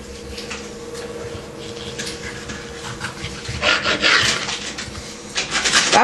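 Knife slicing bell peppers for a Rosh Hashanah pepper salad, a steady rasping cut across a board with louder, denser strokes in the second half, close and continuous, with no talk.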